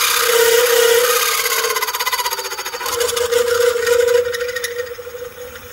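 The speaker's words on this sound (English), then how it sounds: "Slowing that reamer down just a little bit." A reamer cuts into a KTM clutch part during a roller bearing mod, a steady whirring tone with a scraping, chattering edge that slows and pulses near the end.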